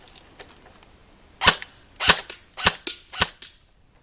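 An A&K SR25 airsoft rifle fires in semi-automatic mode, giving six sharp, close, loud snapping shots in an uneven rhythm after a short quiet lead-in with faint clicks.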